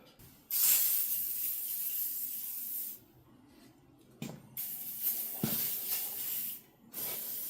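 Bursts of aerosol hissing close up as metal protector is sprayed onto a snowblower, one long spray followed by shorter ones with brief pauses between.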